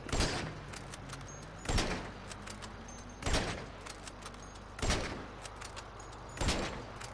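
Gunshots in Grand Theft Auto V fired at car tyres: five sharp, evenly spaced reports about a second and a half apart, each followed by a short decay, with nothing else over them.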